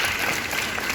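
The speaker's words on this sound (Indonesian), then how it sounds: "tepuk tangan dong buat kita semua" Audience applause at a Summarecon Serpong property presentation, a dense, steady wash of clapping filling the whole moment at close range.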